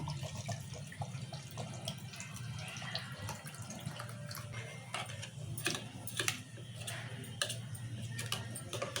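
Water poured into a mixer jar in a home kitchen, a soft continuous trickle with small clinks, heard quietly over a low background hum.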